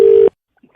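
A steady telephone tone sounds loud and alone as a prank call is placed, lasting about a quarter second before cutting off, followed by faint quiet noises.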